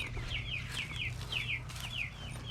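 Pastured chickens on a farm field make a run of repeated soft clucks and chirps, with a steady low hum underneath and no talking.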